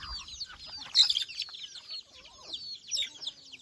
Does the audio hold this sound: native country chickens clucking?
yes